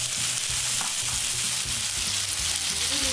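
Onion, green chillies and tomato frying in a pan, giving a loud continuous close sizzle with low clatter from stirring throughout.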